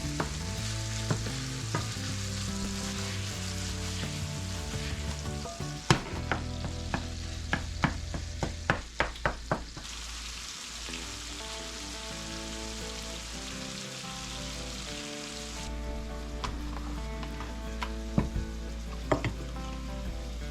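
Hamburger meat and petite diced tomatoes sizzle steadily in a pan while being stirred, with a string of sharp scraping and tapping clicks from the utensil against the pan over the constant frying hiss.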